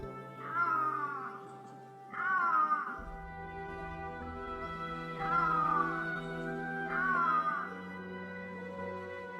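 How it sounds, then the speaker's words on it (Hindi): Iberian lynx in an Andalusian forest gives several long, drawn-out wailing yowls in a steady series with short pauses between, close and clear over a low background hum. "दुनिया की सबसे डरावनी बिल्ली आइबेरियन लिंक्स की दहाड़ एक दहशत पैदा करती है।"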